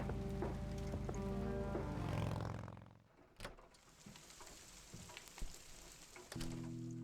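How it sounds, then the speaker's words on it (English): Rain falling on a window in the video game Kathy Rain, a steady faint patter and hiss that continues as a musical tone fades out and returns near the end. "There's nothing quite like the soothing sound of rain falling on a window."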